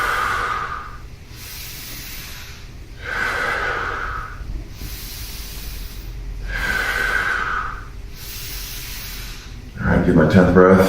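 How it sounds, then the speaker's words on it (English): Deep rhythmic breathing in the Wim Hof method, with four long forceful inhale-exhale cycles drawn close to the microphone, each lasting about two seconds, ending in a sharper rushing breath. "Get my 10th breath."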